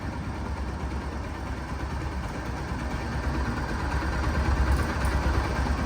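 A used Bajaj Pulsar NS 160cc motorcycle idles with a steady low rumble and a fast, even engine patter, close and continuous without speech.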